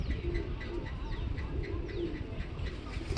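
Pigeons coo softly in repeated low, throaty phrases. The sound is fairly quiet and continuous against a faint background, with no talking.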